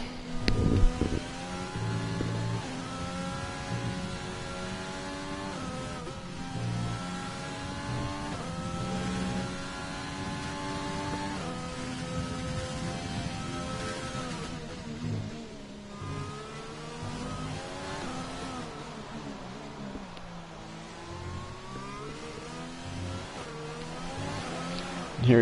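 Race car engine on the final lap of a GTR race in Mexico, a sustained howl rising and dropping through shifts and corners, moderately loud and unbroken, with a faint voice here and there.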